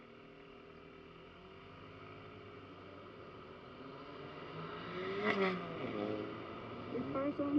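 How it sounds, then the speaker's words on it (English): A car engine hums faintly in traffic, then swells to a louder, rising drone as it passes close by. The sound fades slightly afterward. "This car sounds like a fart."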